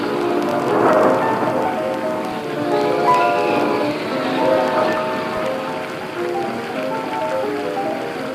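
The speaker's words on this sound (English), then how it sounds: "But then a great storm came upon the sea." A dramatized storm at sea rolls on, with steady heavy rain and low rumbling thunder building in loud swells, layered under a wavering tonal backdrop from an old 1936 story recording.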